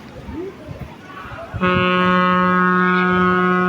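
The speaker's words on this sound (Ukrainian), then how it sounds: "Гудок такий йде." A loud, steady horn blast sounds at an aquapark with thermal baths in Kosino, Ukraine, starting after brief background voices and holding a sustained, strongly tonal note to the end.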